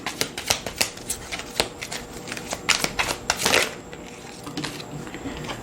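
Tarot cards are shuffled in a run of crisp, rapid riffling flicks, rising to a denser burst of card noise near the end, close and alone with no talking.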